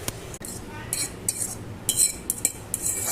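A spoon stirs lassi in a glass or cup, producing a run of sharp, irregular clinks and taps against the rim over a quiet background.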